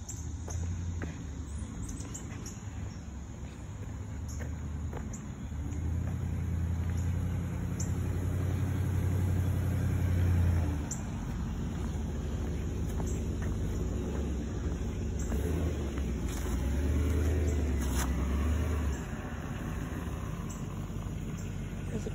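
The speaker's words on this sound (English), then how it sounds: "There's a truck going by." A truck rumbles past along a road near a cyclist, a steady low engine drone that swells and holds for several seconds before easing, with no talking.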